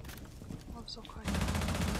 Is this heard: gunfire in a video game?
yes